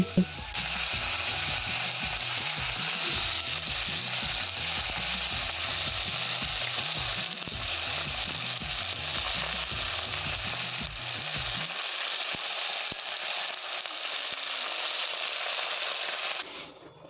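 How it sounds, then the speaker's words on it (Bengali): Broad beans sizzle and fry steadily in a wok, a loud continuous hiss over a rhythmic low rumble, with the frying sound thinning out near the end. "শিম ভাজা করার জন্য ওইদিকে হচ্ছে কড়াইও বসিয়ে দিয়েছি"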